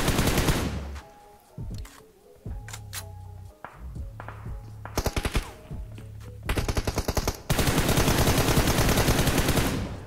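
Gunfire at a car in PUBG Mobile, with loud close bursts of automatic rifle fire and single shots broken by short pauses, ending in a long sustained volley, plus faint metallic pings.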